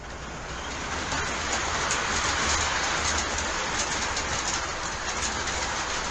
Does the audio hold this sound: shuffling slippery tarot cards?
no